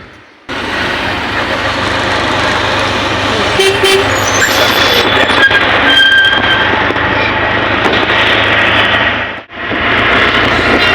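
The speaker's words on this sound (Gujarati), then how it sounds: "અહીંયાથી ટ્રેનમાં જઈએ" A loud, steady rumble of a train running continuously nearby, heading to Dombivli, with brief tonal squeals and a short dip near the end.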